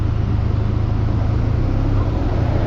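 Heavy road traffic builds up at a roadworks site on a highway ride through Rajasthan, heard as a loud, steady low rumble of engines with wind noise and no talk.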